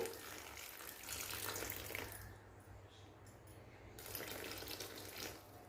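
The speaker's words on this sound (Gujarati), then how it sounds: "તો આપણે ગરમ પાણી એડ કરવાનું છે" Hot water pours in a soft, steady stream into a bowl of boondi for raita, faint and continuous.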